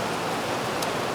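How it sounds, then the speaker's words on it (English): Steady rain falls in Key West, Florida, a dense, even hiss over one brief moment with no voices. "The rain is not stopping."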